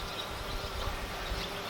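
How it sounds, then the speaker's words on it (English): Honey bees hum around an open hive during a summer move, a dense, steady buzzing drone filling the space at moderate loudness, with no speech. "So the first thing I need to do is clear the bees from these 2 supers into the brood box"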